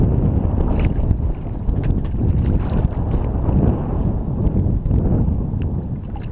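Strong wind on Lake Norman roars and buffets a microphone on a small fishing boat, a loud, continuous gusting rumble close up, with no voices.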